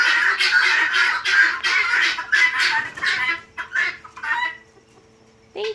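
Chickens released from their coop cluck and squawk in quick, excited bursts close by, several birds calling over one another before the sound thins out and trails off near the end.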